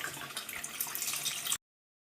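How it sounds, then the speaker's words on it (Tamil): Tamarind water poured into a pan of fish curry, a steady splashing liquid pour lasting about a second and a half, then cutting off to silence. "இப்போ புளி ஊற்றியாச்சு"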